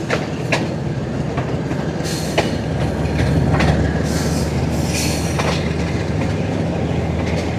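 A GU20 diesel locomotive hauls a safari train on the Rawalpindi–Attock Khurd line, with a steady loud engine drone, rolling wheels and rail clatter, and a few sharp squeals as it picks up speed.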